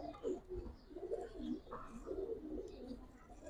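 Soft, low coos from Giribaz pigeons repeat in a steady rolling rhythm, fairly close, with a little faint background chatter.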